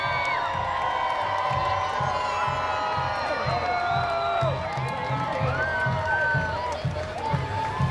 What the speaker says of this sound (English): you can hear the screams of just everybody getting out their camera phones